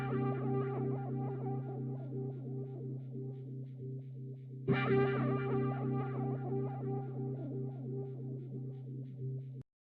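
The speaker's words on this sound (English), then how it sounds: "It's called the Black Bee Bass Synth." Black Bee bass synth with a trippy effect layered underneath, a sustained, buzzy, heavily processed low tone with shimmering upper harmonics, re-struck midway and holding steady and loud throughout.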